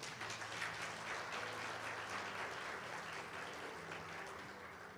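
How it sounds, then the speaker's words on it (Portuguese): A church congregation claps steadily for several seconds, a faint, dense patter of many hands heard from a distance. "Você pode dar uma aplauso bem forte ao Senhor?"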